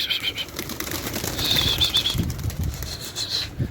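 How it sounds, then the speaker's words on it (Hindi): Pigeons flap their wings in flight above a tower, a soft rapid fluttering at moderate distance with faint bird calls above steady outdoor background noise. "ये देखें, ये ऊपर कबूतर छेड़ रहे हैं जनाब"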